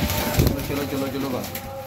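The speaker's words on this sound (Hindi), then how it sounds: "ये लें दोस्तों सारे कबूतर आ गए हैं बाहर" Newly trained pigeons let out of their loft coo softly amid a crowded, noisy background, their low throaty calls overlapping in a short burst.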